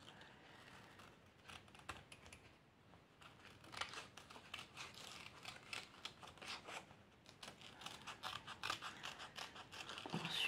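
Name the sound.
cutting paper with scissors for scrapbooking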